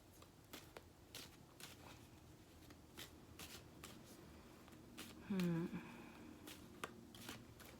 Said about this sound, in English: let me pull out the other three cards